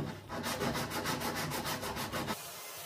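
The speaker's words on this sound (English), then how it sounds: "my sanding drum off the oscillating sander to clean up the wine" Wood is rubbed by an oscillating sander's sanding drum in rhythmic back-and-forth strokes while wine holders on a bar cart are cleaned up, close and fairly soft, stopping near the end.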